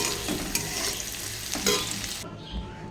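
Cooked rice is tipped into a frying pan of fried raisins and stirred, producing a loud close sizzle with scraping spoon strokes that cuts off abruptly near the end.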